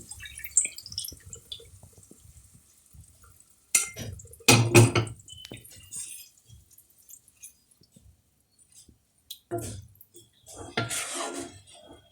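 Milk, 1.5 litres, poured into a pan on a lowered gas flame for carrot halwa: scattered soft splashes and drips, with louder pouring bursts in the middle and toward the end, and quiet gaps between.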